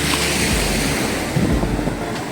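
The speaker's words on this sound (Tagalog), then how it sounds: "Ito yung dagat." Surf and sea waves wash steadily onto a white sand beach at Dinadiawan, Dipaculao, Aurora, with mountains behind; a continuous broadband roar with gusty wind buffeting the microphone and no voices.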